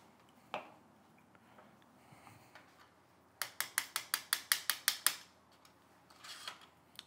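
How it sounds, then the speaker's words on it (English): An axle screw being unscrewed on a Mathews compound bow: a run of about ten evenly spaced, sharp clicks, close and fairly quiet, with near silence before and after. "Unscrew that axle screw."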